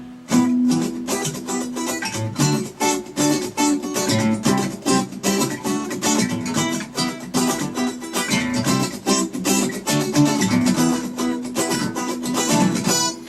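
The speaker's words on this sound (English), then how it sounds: "let's take a look at how this pattern will sound with the muting effects" Guitar strumming a steady bar chord pattern with percussive muted strokes between the chords, loud and close, played at full speed with no talking.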